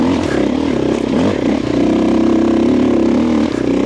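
A motorcycle fitted with a Dobeck EJK fuel controller revs in fourth gear, its engine note droning loud and close with a steady rising and falling pitch.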